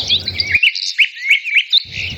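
Several bright, varied bird chirps and whistles near a waterfall, alone in the middle of the clip, with a low rumbling background at the start and end.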